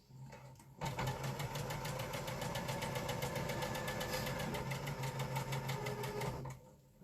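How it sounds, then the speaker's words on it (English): A sewing machine stitches along a marked line on a tulip quilt block, running in one steady, continuous burst of fast, even needle strokes for several seconds, then stopping, with no talking. "I'm just going to sew directly on that line"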